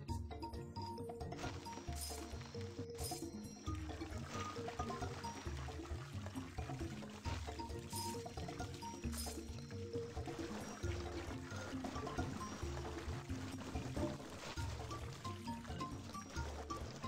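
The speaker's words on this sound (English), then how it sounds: "Let the water go through this pipe!" Cartoon water gurgles and pours through a pipe in a BabyBus children's game, a busy bubbling, clicking stream under light game music that runs continuously.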